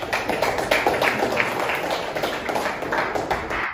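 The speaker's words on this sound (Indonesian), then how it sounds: "Tepuk tangan dulu." A classroom full of people clapping steadily together, a dense patter of hands that continues at an even level throughout.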